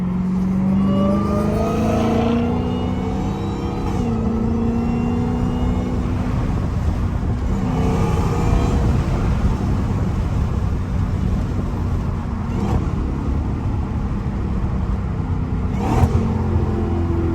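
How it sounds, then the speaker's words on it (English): A Dodge Charger engine revs nearby in slow afternoon traffic, its rising and falling engine tones sweeping up several times over a constant road rumble heard from inside another car. "if y'all hear that sound, that is not my car. That's this Charger next to me."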